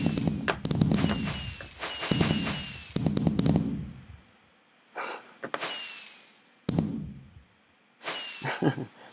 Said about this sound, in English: Who's setting off fireworks?